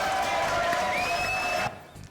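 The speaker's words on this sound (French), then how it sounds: "on applaudit très fort Sandy" Studio audience at a French TV variety show applauds loudly and steadily for about a second and a half, with a tonal whistle-like sound riding over the clapping, before the applause cuts off abruptly.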